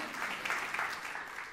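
Brief, fairly faint clapping from a church congregation, a soft, continuous patter of many hands heard alone without speech.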